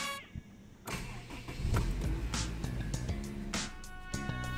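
A car engine cranking and catching near the microphone, with a short starter whir giving way to a steady running idle that carries on under faint electrical tones.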